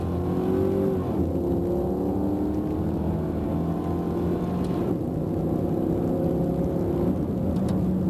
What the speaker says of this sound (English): Now make some 3/4 throttle shifts